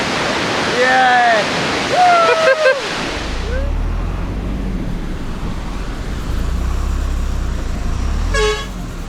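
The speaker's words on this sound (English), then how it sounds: "This monsoon season, this waterfall is raising." A monsoon-swollen waterfall on a road through Tibet roars as a continuous broadband rush. Loud vehicle horn toots and an excited shout ride over it at first, and another short horn blast sounds near the end.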